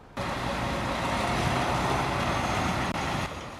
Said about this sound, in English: The dump trucks keep lining up here more than a month after the big storm